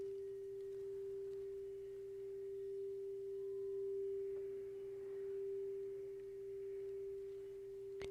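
Singing bowl sounding the throat chakra tone, a single pure sustained hum held steadily and faint throughout, with a soft swelling waver and no voices.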